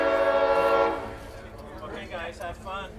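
Horn of a train at a railway museum, one sustained, fairly loud blast that fades after about a second, followed by a voice talking over low rumbling background noise.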